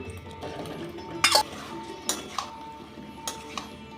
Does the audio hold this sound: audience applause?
no